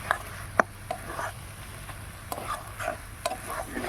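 Cabbage and pea curry is stirred in a pan, with scattered scrapes and clinks of the spoon against the metal over a soft, low sizzle.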